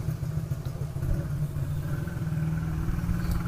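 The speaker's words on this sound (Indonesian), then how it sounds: "kalau mendengarkan suara motor" A motorcycle engine runs steadily with a low, throbbing rumble, close by and fairly loud throughout, with no talking.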